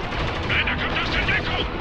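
Heavy gunfire in the video game Spec Ops: The Line, a dense, continuous rattle of automatic weapons and impacts, loud and close, with game voices talking over the shooting.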